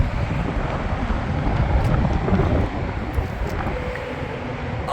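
Outdoor wind buffets the microphone around a motorhome towing a Jeep JL Rubicon Unlimited, making a low, continuous rumble that swells and eases in gusts. No voices are heard.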